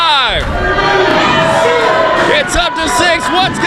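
A wrestling crowd cheers and shouts loudly and continuously at a live match, with excited whoops rising over the roar and a commentator talking over it.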